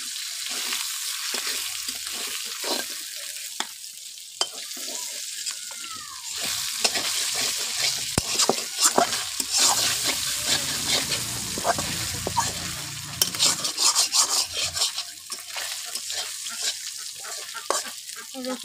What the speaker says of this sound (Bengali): এই দেখুন মাছ ভাজা হয়ে গিয়েছে।